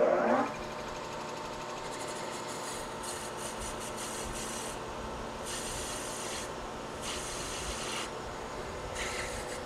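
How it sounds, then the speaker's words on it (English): A metal lathe parts off excess stock from a small burnisher workpiece, a steady grinding, rasping cut with a rhythmic mechanical drone that pulses in bursts, close and fairly constant after a brief louder knock at the start. "I'm just gonna part off the excess and then we'll face it."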